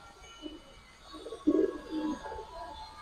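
Giribaz and coloured pigeons cooing softly in a fancier's collection, a short low coo rising in the middle over faint room noise.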